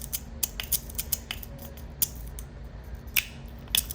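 An OX fidget slider in zirconium with Ultem plates, sliding back and forth in a quiet room, giving off a string of sharp, close clicks and scrapes at an uneven rhythm.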